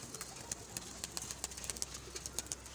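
A young pigeon gives soft, repeated high squeaky calls in a rapid irregular series, close and fairly quiet over light background hiss.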